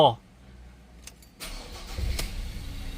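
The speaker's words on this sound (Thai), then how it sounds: "เดี๋ยวเรามาลอง ทำการสตาร์ทเครื่องยนต์ดู" A Mazda BT-50 Pro pickup truck engine cranks and catches after an oil pump replacement, then settles into a low, steady idle after a brief quiet pause.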